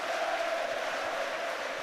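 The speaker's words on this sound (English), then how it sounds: "Listen to this crowd here." Rugby league crowd at a St Helens v Warrington playoff match, a steady, dense roar of cheering that holds loud and continuous throughout with no clear breaks.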